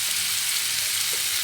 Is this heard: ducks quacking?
no